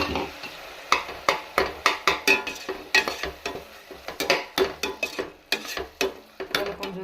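Ground tomato frying in oil in a pan, stirred with a utensil that scrapes and taps in a steady rhythm over a soft background sizzle, close and without talk.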